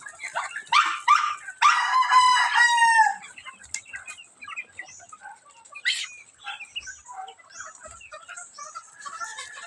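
Hungry backyard range chickens at feeding time, with a rooster crowing loudly near the start among clucks and busy calls, then quieter scattered clucking; a dog barks in the mix.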